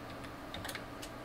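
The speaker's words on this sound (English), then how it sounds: "So now I'm going to type in my first" Quick, light keystrokes on a computer keyboard, typing out text for a greeting card in a short, steady burst of faint clicks close to the mic.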